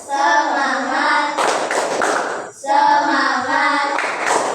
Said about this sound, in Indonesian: Speakingnya yaitu tepuk semangat